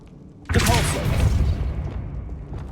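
The Depulso spell in Hogwarts Legacy goes off with a sudden loud whooshing boom that decays into a long rumbling tail over a couple of seconds, standing out sharply against the quiet surroundings.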